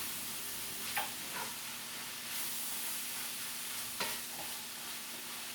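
Vegetable beefless grounds warm in a pan with a steady, close sizzling hiss, broken by a few soft scraping stirs.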